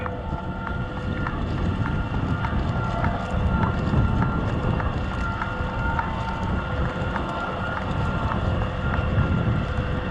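A McCormick tractor pulling a three-furrow plough through dry, drought-hardened soil, a loud continuous engine drone with rumbling, wind-buffeted noise and faint rhythmic clinks.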